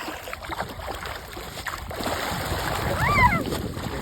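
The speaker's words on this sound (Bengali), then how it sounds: "মাছের খাদ্য দেওয়া হচ্ছে, দেখেন কিভাবে মাছ এখান থেকে খায়।" Farmed fish in a small pond thrash and splash at the surface while feed is thrown in, a continuous churning wet noise that builds toward the end, with a brief high bird-like chirp near the close.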